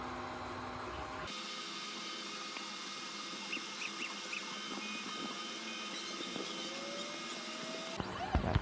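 A 3D printer works on a flower pot, giving off a steady close mechanical whir with faint stepper-motor whines and small chirping tones over a continuous hum. It stops abruptly near the end, with no talking.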